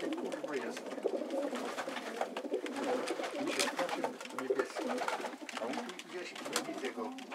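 Racing pigeons coo softly and repeatedly at a loft, a low, steady murmur of bird calls at a quiet level over faint background noise.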